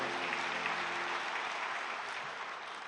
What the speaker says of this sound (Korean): 우리 하나님께 영광의 박수 올립니다.